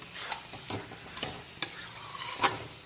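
Potatoes being sautéed with spices in a pan over low to medium heat for a ladyfinger curry, soft sizzling under intermittent scraping stirs of a spatula, close and fairly quiet.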